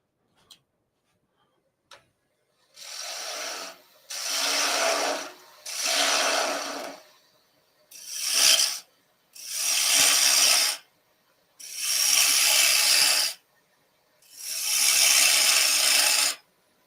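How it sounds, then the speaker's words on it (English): A gouge hollows a wooden bowl on a woodturning lathe in seven separate scraping bursts, each a second or two long, with short quiet gaps between them and a couple of faint clicks at the start. "So we're just hollowing a bowl now."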